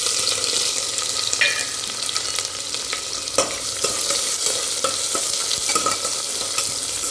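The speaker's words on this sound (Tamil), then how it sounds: "இப்போ இது கூட ஒரு பெரிய வெங்காயம் நறுக்கி இது போடுறோம்." A large sliced onion sizzles and fries in oil in a pressure cooker for beetroot biryani, with steady crackling and occasional scraping stirs close up, no talk.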